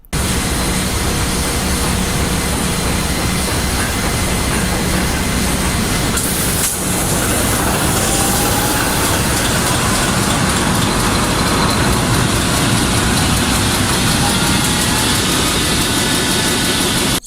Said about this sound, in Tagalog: So, si third engineer, in-start niya na yung ating generator